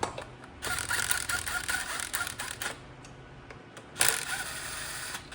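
Bolts being tightened on a Holley front-runner-equipped LS engine with a ratchet, two bursts of rapid clicking pawl strokes, fairly close, separated by a quieter pause.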